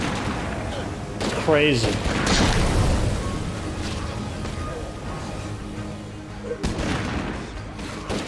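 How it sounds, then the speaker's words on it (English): A white phosphorus grenade in a video game bursts and then burns with a sustained roaring crackle, loud and close, while someone talks briefly over it. "Dang, look at the fire coverage on Willie Pete grenade."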